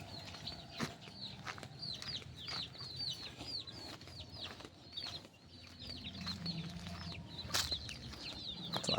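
Chickens and chicks on a farm clucking and peeping in repeated short bursts, fairly faint and close, with a low background murmur and occasional wing rustles.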